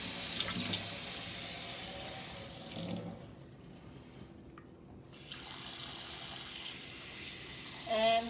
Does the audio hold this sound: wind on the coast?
no